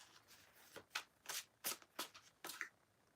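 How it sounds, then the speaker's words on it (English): A large double deck of cards is shuffled close up in several quick riffling bursts, each a short papery flutter, with brief pauses between them and no talking over the sound. "these are a lot of cards to shuffle"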